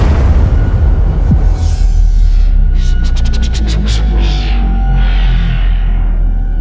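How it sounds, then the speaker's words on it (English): A cartoonish explosion sound effect from a children's fairy story rumbles with a deep, continuous boom. Whooshing, warbling sweeps and a quick run of pulsing tones sit on top of it, loud and alone with no voices. "there came an explosion sound."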